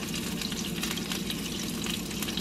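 Garlic sautéing in olive oil and butter over medium heat while being stirred: a dense, continuous close-up sizzle with a low rumble beneath, steady throughout, with no voices.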